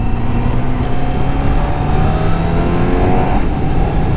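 A 2020 Honda CBR 1000 RR-R SP Fireblade motorcycle engine roars loud and close under acceleration, a dense continuous drone with rising pitch sweeps throughout.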